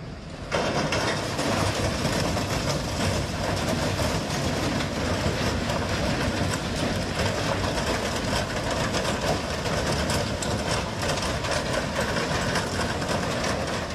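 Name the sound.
train braking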